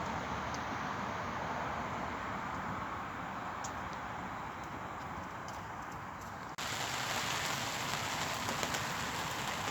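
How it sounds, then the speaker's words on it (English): Steady rain falls on a solo winter wild camp in strong winds, a continuous close hiss of drops on surfaces that grows louder partway through, with no voices. "Right, it's all just turning to rain now."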